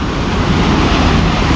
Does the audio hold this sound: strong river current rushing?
yes